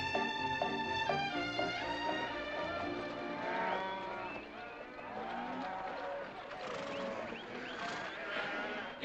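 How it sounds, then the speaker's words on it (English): Cattle moo repeatedly from the back of a moving truck in a 1963 Western film, with long, drawn-out calls overlapping each other and engine rumble beneath. "You got cattle in the back"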